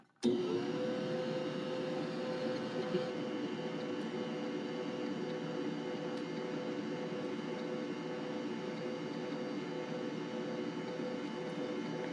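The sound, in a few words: electric mixer mixing coconut cake batter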